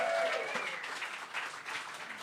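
A crowd at a Chicago political rally applauds in a continuous, fairly soft patter of many hands that holds steady for a couple of seconds, heard from a distance.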